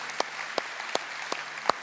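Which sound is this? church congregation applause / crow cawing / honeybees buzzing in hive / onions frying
church congregation applause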